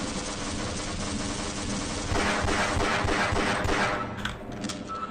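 Automated turrets in the video game Half-Life spray rapid, sustained gunfire at spawning head crabs, a continuous rattling burst that swells louder midway, with no talking over it.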